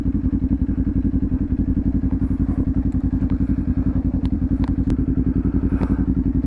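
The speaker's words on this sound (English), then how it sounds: "I'm gonna be driving down with this motorcycle" A motorcycle engine runs close by, throbbing in a fast, even string of loud thumping pulses that stays steady throughout.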